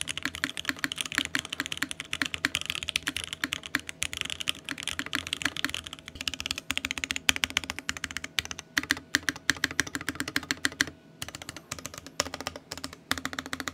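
Fast, continuous typing on an Aeroboard70 mechanical keyboard, close up, with crisp clacking keystrokes in an uneven rhythm and a brief pause near the end.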